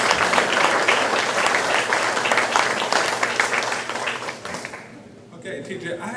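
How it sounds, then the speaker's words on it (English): Audience applause at a farm comedy show, a full, steady roar of clapping from a crowd for about five seconds before tapering off into quieter room noise. "Give a round of applause to the great audience."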